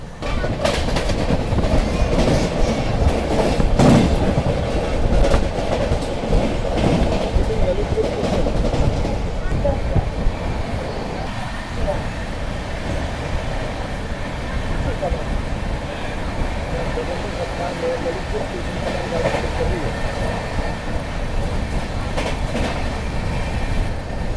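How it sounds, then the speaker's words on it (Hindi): Secunderabad Duronto Express running non-stop at speed, a loud continuous rumble of wheels and carriage with rhythmic clatter heard from inside the train, while a person talks over it. "बहुत अच्छी बात लगी मुझे दुरंतो की कि बिल्कुल नॉन स्टॉप भाग रही है ये।"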